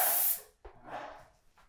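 A Titan paint sprayer fitted with a spray guide gives a short, loud hiss of spray that cuts off after a moment, followed by faint handling noises.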